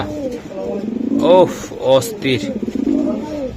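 Racing pigeons coo close by in soft, throaty, repeated calls, with a murmur of background voices around them, at a pigeon sale.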